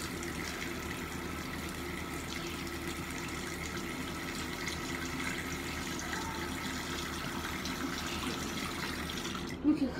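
Running tap water for washing hands with soap, a steady broadband splash and flow at close range that continues evenly throughout, with a brief louder knock or clatter right at the end.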